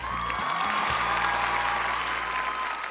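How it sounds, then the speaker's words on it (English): Steady, dense applause at a mock music awards show, full and even throughout, with a low hum and a faint tone underneath. "A round of applause for the Soundcheck Choice Awards."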